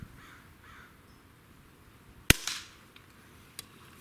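An air rifle fires outdoors at 25 yards, making a single sharp, loud crack followed by a short fading tail, then a fainter distant click or impact about a second later.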